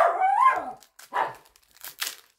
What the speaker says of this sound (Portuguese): Vocês ignoram o cachorro de fundo, né?